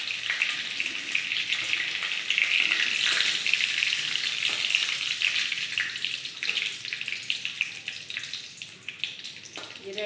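Cumin seeds sizzle and crackle in hot oil for veg dal, a dense, steady frying hiss that runs throughout, bright and close, with occasional spits and faint stirring.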